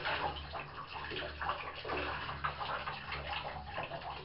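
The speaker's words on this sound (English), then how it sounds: "And we're going to rinse the mirror out again." Water running and splashing steadily as a telescope mirror from a Newtonian reflector is rinsed in a bath, a close, continuous wash with small irregular splashes throughout.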